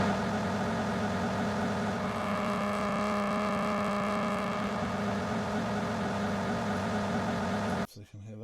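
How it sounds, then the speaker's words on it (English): A simulated car engine and exhaust from the Igniter vehicle sound plugin drones steadily with layered tonal harmonics at an even idle-like pitch, then cuts off abruptly near the end. "Each of these cars has two sound sources, which is the engine and the exhaust."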